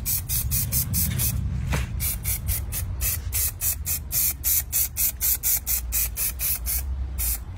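Spray paint aerosol hitting spaghetti laid on marble stairs during a stair repair, a loud, close run of rapid short hissing bursts in an even pulsing rhythm, with one longer blast near the start.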